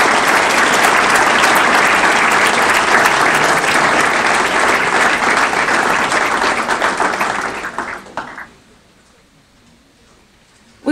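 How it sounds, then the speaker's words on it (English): Loud, sustained applause from a ceremony audience honoring 2018 Rising Stars scholar-athletes, a thick wash of many hands clapping that thins and stops after about eight seconds, followed by near quiet. "Let's give a big round of applause to our 2018 Rising Stars."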